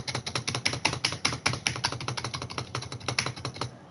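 Rapid, evenly spaced clacks of an LED computer keyboard being typed on, spacebar presses among them, crisp and close-up with a busy steady rhythm and no talking.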